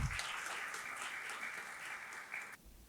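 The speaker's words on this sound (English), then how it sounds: "Please give him a big round of applause." Audience applause at a psychology conference welcoming a keynote speaker, steady sustained clapping from a crowd in a hall lasting a couple of seconds before cutting off.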